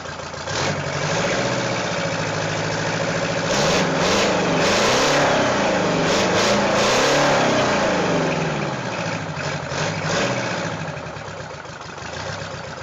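A Detroit Diesel 8V71 two-stroke V8 diesel of 9.3 liters, as fitted to buses, trucks and military vehicles, idles roughly and then revs up and back down in a steady swell, loud and close, with no voices.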